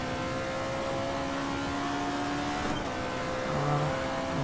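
A Corvette engine in a racing video game, droning steadily at high revs with a humming tone, then shifting pitch briefly as it is downshifted without heel-toe, heard alone at moderate volume.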